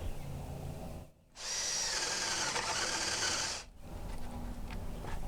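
A power drill drives a bolt into wooden deck framing, countersinking it with one sustained high whine of about two and a half seconds, bracketed by brief pauses and steady outdoor background noise.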